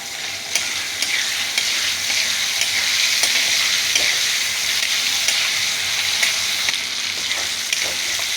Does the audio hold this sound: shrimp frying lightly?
yes